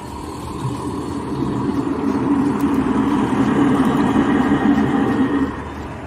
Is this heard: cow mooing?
no